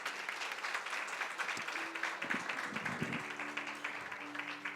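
Audience at a logistics education seminar gives a round of applause, steady clapping that fills the room briefly and fades slightly toward the end, with faint voices beneath.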